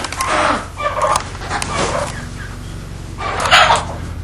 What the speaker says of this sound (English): And here's the chicken coop.